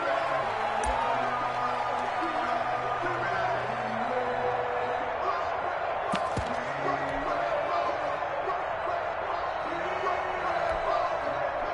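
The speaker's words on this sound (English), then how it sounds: "The crowd's not doing that O-line any favors." A stadium crowd in an American football video game gives off a steady, continuous roar of noise from the stands. A commentator's voice talks over it throughout.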